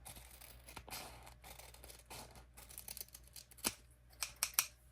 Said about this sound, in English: Now, we need to trim the extra off of this side.